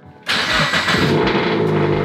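A car engine cranks and catches with a sudden loud burst, then settles into a steady running roar close by.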